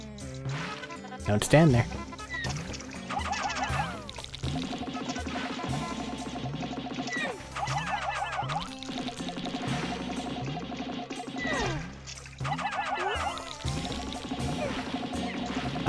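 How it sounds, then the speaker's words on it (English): Splashing water in the video game Pikmin, repeated short watery splashes and drips under game music, with a person talking at times. "That's a lot of splashes"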